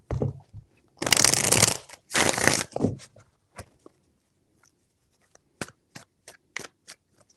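Tarot cards being shuffled by hand, two dense riffling bursts up close followed by a scatter of light taps and card flicks as the deck settles.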